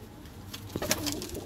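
Punjabi pigeons coo softly amid a busy, noisy background, with a few low murmuring calls rising and falling.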